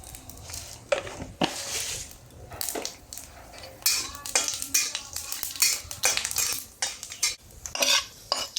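Dried chillies and panch phoron sputtering in oil, probably in a pan over a traditional clay stove, with scraping stirs and clinks of a metal utensil against the pan in an uneven rhythm, close by and moderately loud.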